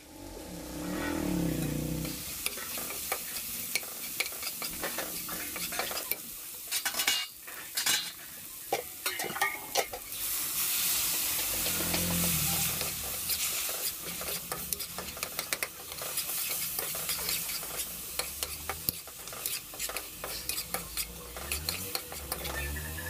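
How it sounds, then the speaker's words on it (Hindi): Masala for homemade Maggi is stirred and fried in a pan, giving a continuous sizzle with steady spoon scraping and clinks against the metal, close and fairly loud throughout. "अभी हम इसको है ना कम से कम 5 मिनट इसको अच्छे से भूंजेंगे भाई"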